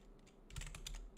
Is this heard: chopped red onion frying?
no